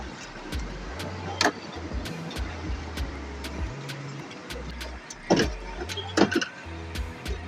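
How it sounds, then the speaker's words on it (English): A 2010 BMW X6 power tailgate opens with a low, steady motor hum that steps in pitch as it runs, broken by a few sharp clicks and clunks from the latch and hinges. "put your leg just down here and the boot will open"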